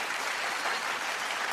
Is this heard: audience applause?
yes